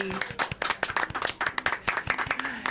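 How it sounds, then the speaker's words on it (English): A small audience claps for a group of girls at a local community pageant, with distinct, uneven hand claps close by and fairly loud, and a faint voice mixed in. "Let's give the girls a round of applause"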